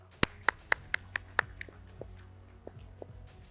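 A few people clap at a Global E-Cricket Premier League esports cricket event, several sharp, distinct claps close by that thin out into scattered, fading taps.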